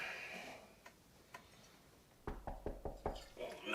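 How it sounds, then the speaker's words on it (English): About five sharp knocks on a door come in quick succession late in the passage, after a quieter stretch with a few isolated taps. "Knock, knock, knock."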